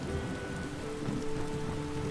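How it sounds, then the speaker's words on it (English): Steady rain pours down across a Skyrim landscape near a docked ship outside Solitude, a dense continuous hiss at constant loudness with no voices or other sounds. "Especially because it is raining."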